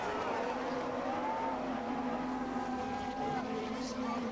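Touring race cars of the 1995 DTM round at Diepholz pull away from the start line, a dense layered engine roar holding steady and loud with a whining pitch that rises and shifts as the field accelerates.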